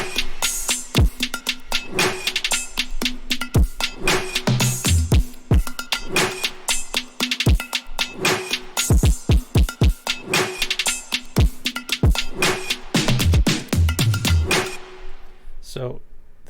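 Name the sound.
drums of the beat's drop, by themselves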